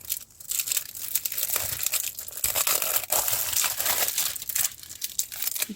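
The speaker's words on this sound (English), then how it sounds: "Oh, peeling the wrong bit off." Plastic film being peeled off a diamond painting canvas, giving a steady crinkling, tearing rustle up close for several seconds with brief pauses and no talking.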